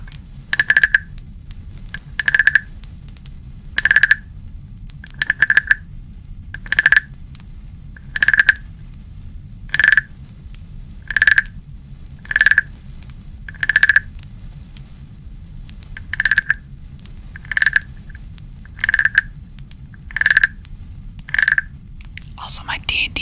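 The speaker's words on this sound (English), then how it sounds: "We start out with Wooden Frog." A wooden frog percussion instrument is rasped in a quiet indoor setting, giving about sixteen short, evenly spaced croaking scrapes with brief pauses between them, heard close and clear over a faint low hum.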